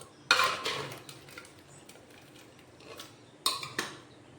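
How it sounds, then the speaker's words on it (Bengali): A ladle stirs potatoes into ghugni in a pot, with a short burst of metallic clinks and scrapes, a quiet pause, then another brief rattle of utensil on metal. "এবার আলুগুলো একটু একটা হাতা দিয়ে একটু মিশিয়ে নেব"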